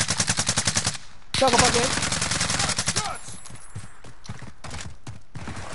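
Rapid automatic gunfire in Call of Duty Warzone crackles in fast bursts, loud and close, with breaks between volleys as a voice talks over part of it.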